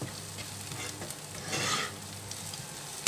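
Masala with turmeric powder being stirred as it fries in a pan, a steady soft sizzle with scraping strokes that swell briefly midway, heard alone and close.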